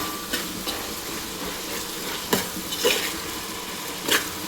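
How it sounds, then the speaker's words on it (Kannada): Spices, tomato, coriander and green chili are tempered for a mutton masala, giving a steady low sizzle with a few sharp spoon-against-pan clinks, close by and with no talking. "ಒಗ್ಗರಣೆ ಮಾಡಕತ್ತೀನಿ"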